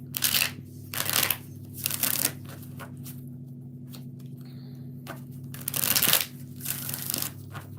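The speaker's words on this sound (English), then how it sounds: "2 more shuffles." Tarot cards shuffled close up in several separate crisp riffling bursts, with quiet gaps between them and a low steady hum running underneath.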